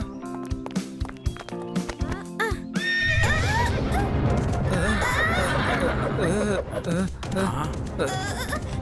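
A horse lets out a long, loud neigh that rises and wavers, after a few sharp knocks and shuffling sounds.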